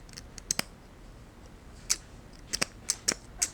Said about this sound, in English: it's cutting straight hair, it'll cut straight hair